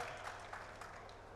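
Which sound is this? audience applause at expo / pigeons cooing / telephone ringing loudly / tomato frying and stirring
audience applause at expo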